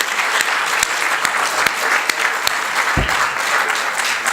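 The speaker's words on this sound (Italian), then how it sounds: "facciamo un applauso ai nostri relatori." A conference audience gives sustained applause for the speakers, a dense, even clapping that continues throughout the clip, with no talking.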